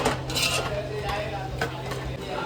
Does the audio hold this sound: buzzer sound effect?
no